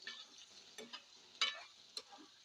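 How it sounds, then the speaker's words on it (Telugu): Bitter gourd curry shallow-fries quietly in a pan: a faint sizzling hiss broken by a few light stirring scrapes and clicks. "నేను దీన్ని ఏమీ డీప్ ఫ్రై చేయలేదండి ఇది నార్మల్గా షాలో ఫ్రైయే"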